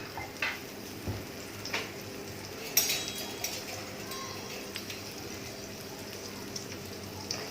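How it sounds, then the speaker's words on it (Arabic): Chicken liver fries in melted butter in a pan, giving a steady, close sizzling crackle with a few sharper pops and no voices. "نجيو نقليو معكم كبدة الدجاج"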